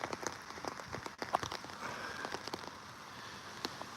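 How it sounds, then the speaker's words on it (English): Heavy rain falls outdoors on a pitch and putt course during a club matchplay final, a steady pattering hiss with scattered louder drops close by, all the way through. "rain really starting to come down here now"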